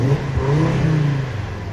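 A 2013 Audi TT RS engine revs up, a steady rising mid-pitched growl close by for under two seconds, with no voices over it.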